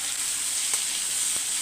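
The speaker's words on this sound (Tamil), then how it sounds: "இப்போ அப்படியே மாங்காவை சேர்த்து வச்சிடலாம்." Raw mango pieces sizzle in hot oil with dried red chillies and curry leaves, a steady close frying hiss throughout with a couple of faint stirring clicks and no talk.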